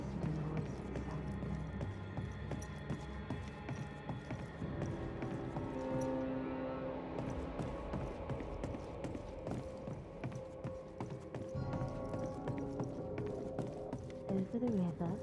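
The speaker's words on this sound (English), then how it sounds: "The horse knows the way to carry the sleigh through the white and blue." Horse hooves clip-clop steadily as a horse pulls a sleigh through a snowy landscape in the video game Banishers: Ghosts of New Eden, the rhythmic steps running continuously beneath music and a singing voice.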